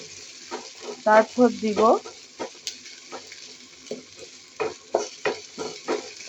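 Garlic, ginger and onion fry in oil while being stirred, giving a low background sizzle broken by repeated scraping stir strokes in irregular bursts, with a brief spoken remark in between.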